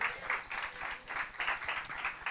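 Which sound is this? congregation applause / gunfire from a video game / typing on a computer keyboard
congregation applause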